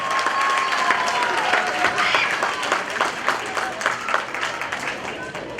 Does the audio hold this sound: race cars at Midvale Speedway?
no